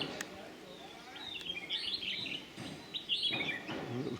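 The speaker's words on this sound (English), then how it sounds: "Lots of birds sipping nectar from this tree." Many small birds chirp and call from a flowering Indian coral tree as they feed on nectar, bright overlapping tweets coming in short bursts over a soft outdoor background.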